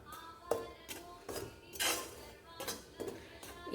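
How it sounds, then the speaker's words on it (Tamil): A spatula scrapes and clinks against a pan as a cup of gram flour is dry-roasted over a medium flame. About eight light metallic strokes come in an uneven rhythm, close but quiet, with no talking. "இந்த 1 கப்பு கடலமாவையும் அப்படியே வறுத்துடலாம்"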